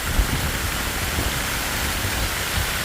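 Rain falling steadily over a village, an even, moderately loud hiss with no voices.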